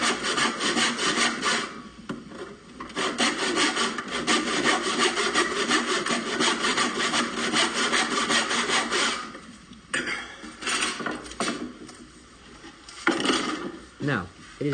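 A hand saw cuts through wood clamped at a workbench, with rapid rhythmic rasping back-and-forth strokes that are close and steady for most of the cut, then slow to a few separate final strokes.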